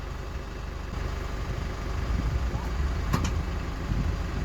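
Boat engines idle with a low, rumbling drone as the boat is launched, the sound swelling slightly partway through, while people talk over it.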